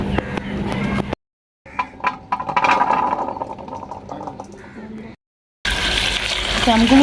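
Java plum fruits are rinsed under water in a kitchen, with sloshing, splashing and trickling in short chopped segments broken by brief silences.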